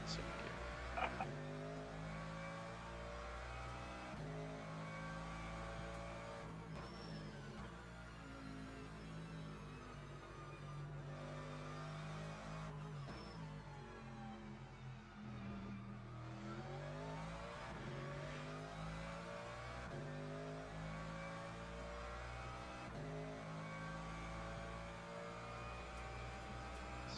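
Race car engine in Le Mans Ultimate, a sim racing game at Paul Ricard, droning steadily throughout with shifting pitch as it accelerates and changes gear, loud and continuous with faint background under it.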